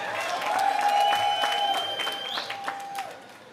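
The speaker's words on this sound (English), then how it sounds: "give him a round of applause" Scattered applause from guests at a city hall African heritage reception, a moderate, steady patter of clapping with a whistle-like tone running through it.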